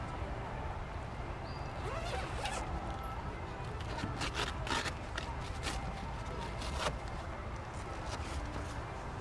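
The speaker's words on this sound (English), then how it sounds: "I've unzipped the cover, and now it has exposed the styrofoam" Zipper being pulled open on a fabric cover over styrofoam during an installation, a scratchy rasping run with soft handling rustles and shuffling around it.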